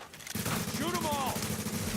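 Video game gunfire crackling in a quick burst under a voice talking over it, with a short rising electronic tone mixed in, all at moderate loudness.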